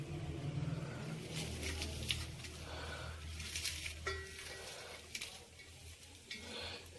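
Chopped onion tipped into goat meat cooking in a pan, with a steady sizzle, scraping stirs and clinks of a utensil against the metal close by, continuing throughout.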